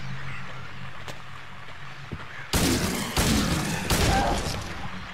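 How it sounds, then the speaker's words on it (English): Gunfire in the video game Silent Hill 2: three loud, close blasts spaced about a second apart, each with a booming echoing tail, breaking a quiet low ambient drone. "four shots."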